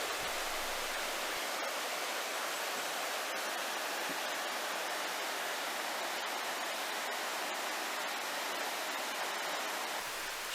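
A sloping waterfall and stream in the Sibiseonnyeotang mountain valley, heard as a continuous, even rush of water that stays steady throughout with no voices.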